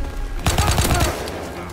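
Type 100 submachine gun in a WW2 shooter: one short rapid burst of about eight close, sharp shots lasting under a second, then a fading tail.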